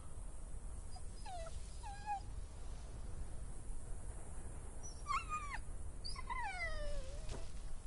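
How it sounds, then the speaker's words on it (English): A dog in The Walking Dead: The Final Season video game gives a handful of high, falling whimpers and whines in short bursts, faint over a quiet low background rumble. "Forgot how messed up this dog is."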